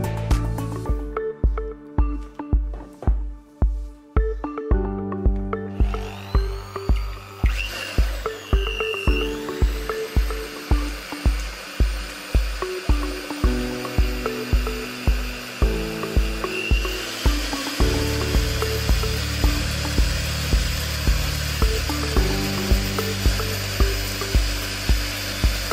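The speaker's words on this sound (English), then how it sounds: "In another bowl, whisk 9 large egg whites." An electric mixer whisks nine large egg whites in a bowl, giving a continuous whirring motor drone with a steady pulsing beat that shifts pitch as the speed changes.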